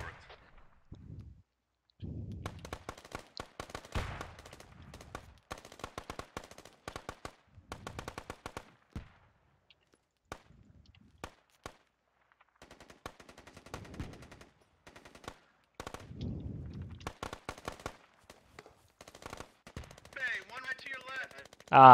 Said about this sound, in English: There's a machine gunner to our southeast.